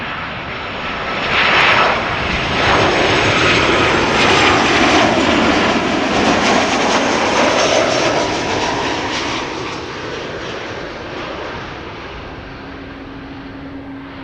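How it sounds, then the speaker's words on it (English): A KLM Embraer 190 in SkyTeam livery, arriving at Schiphol from London City, roars loud and close with a broad jet rush that swells near the start, holds, then gradually fades, alone without talk. "We're going to see KLM's SkyTeam livery on the Embraer 190, arriving from London City."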